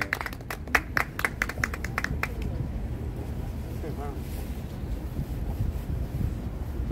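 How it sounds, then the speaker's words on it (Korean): Applause at a Korean party press conference greets party leader Lee Jong-won, a burst of scattered clapping from a small outdoor crowd that fades after a few seconds, with wind noise and a voice speaking over it. "우리 이종원 대표님 박수 한번 주십시오"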